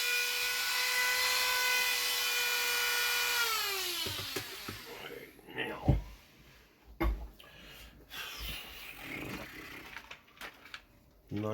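Scraping and rubbing sounds as excess material is worked off Tamiya CC-01 RC car steering parts, following a fading steady whine; short uneven scrapes and taps sit close by.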